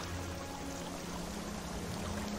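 Water pouring and rushing into an enclosed space beneath ice, a steady, continuous wash of broadband noise with a low rumble, close and unbroken, with no talking.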